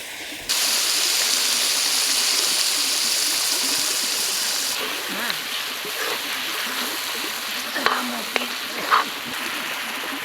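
Spice masala with salt and sugar cooks in a pan for Gujarati dum aloo, giving a steady frying hiss and sizzle that later softens, with a few clinks of stirring near the end.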